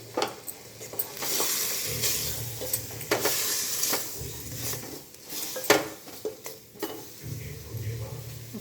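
Chopped onion goes into a hot pan for a spicy mutton curry, frying with a continuous sizzle under repeated scraping stirs and occasional utensil clinks against the pan.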